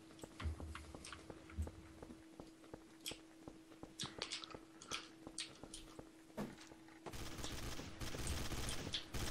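Gunfire in the video game Trouble in Terrorist Town, a string of sharp shots at irregular intervals, some in quick bursts, over a low steady hum before a louder noisy stretch at the end.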